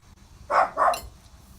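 A dog gives two quick, close barks in succession over a faint background hum, with no speech during the clip.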